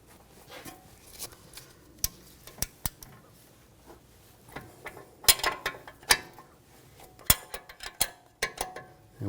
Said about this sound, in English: we're going to take the nut off for the sway bar link. Use a 18mm wrench.